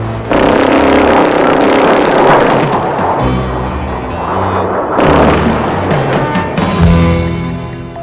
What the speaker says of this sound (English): The heart of the GPU-5A is the GAU-13 30mm Gatling gun.